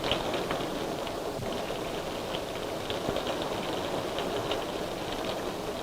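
Steady rain falls on a surface, a soft continuous patter with scattered drops and no voices, even and moderately quiet throughout.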